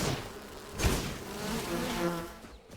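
Bees buzz steadily in the video game Enshrouded, a dense, continuous hum that swells and fades slightly over a few seconds, with no speech.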